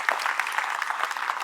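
An audience at an inspirational talk breaks into steady, dense clapping that continues evenly throughout.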